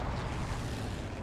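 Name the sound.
rocket from strafe run hitting, Hell Let Loose video game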